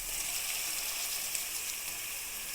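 Onion pieces frying in a pan for Chittur chicken curry give a steady, close sizzle that holds at an even level throughout, with no voices over it.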